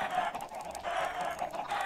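Chickens clucking in the video game Minecraft, several fowl calls overlapping in a dense, steady cluster at close range, with no talk over them.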